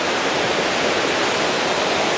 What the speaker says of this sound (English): Right now we are crossing a river on this bridge